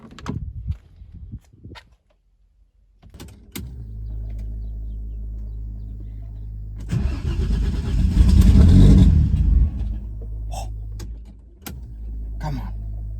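A Mercedes C180 with raised turbo boost cranks and fires up after a short silence, then settles into a steady idle that swells into a brief rev before easing back, loud and close.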